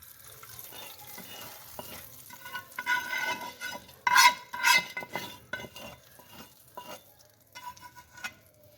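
Spoon stirring and clinking in a bowl as hot tempering is poured into yogurt, with a brief sizzle and wet mixing sounds, close and moderately loud.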